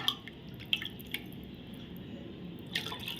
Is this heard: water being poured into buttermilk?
yes